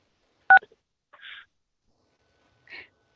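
Telephone keypad tone played over a phone line during a virtual meeting: one short, loud dual-tone beep, followed by two faint, brief muffled noises spaced about a second and a half apart, with no talking.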